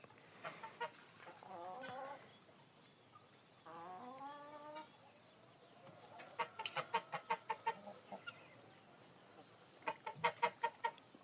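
Crested, bearded, feather-footed hens cluck and squawk nearby in bursts, with rapid repeated clucking runs and a few drawn-out calls, loud and close against quiet farmyard background.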